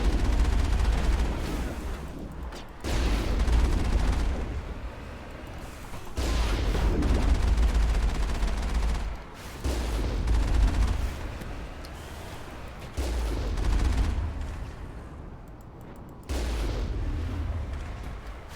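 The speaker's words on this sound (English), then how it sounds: "I just shot that man with a cannon." Repeated heavy cannon blasts from a weapon in the video game Mass Effect, each loud booming shot followed by a decaying rumble, firing roughly every three seconds with no talk over them.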